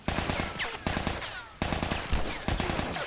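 Gunfire in The Last of Us video game: rapid bursts of shots in quick succession, separated by short pauses, close and loud.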